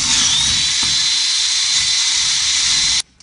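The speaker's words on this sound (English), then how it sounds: "So what we got to do is we have to drill through pretty much" A high-pitched power drill whines continuously at close range for about three seconds, then cuts off abruptly.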